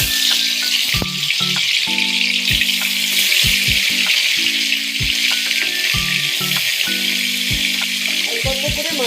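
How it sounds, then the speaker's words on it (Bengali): Small tangra fish rubbed with salt and turmeric fry in hot oil, producing a constant close sizzle and spatter punctuated by repeated clinks of a utensil against the pan, no voices present. "অল্প অল্প করে মাছগুলো ভেজে নেব"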